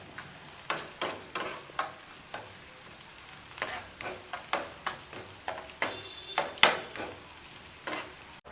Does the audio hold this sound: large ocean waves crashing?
no